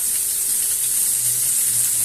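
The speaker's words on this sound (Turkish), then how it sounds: "Biberleri sotelendi." Peppers and eggplant sizzle steadily in a hot pan as they are sautéed, a continuous close, loud frying hiss with no voices over it.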